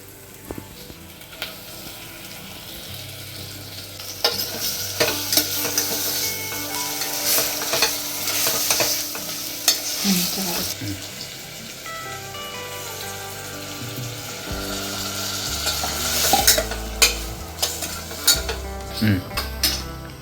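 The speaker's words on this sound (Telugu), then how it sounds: "ఇప్పుడు చికెన్ వేసేసుకుందాం." Chicken sizzles steadily in a pan with occasional stirring and scraping, under background music.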